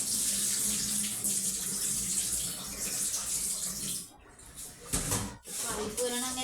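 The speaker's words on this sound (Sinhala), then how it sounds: "මේ පරිප්පු ටික සෝදන්න" Lentils rinsed in a bowl under a running tap, giving a steady close rush and splash of water that briefly breaks and then resumes.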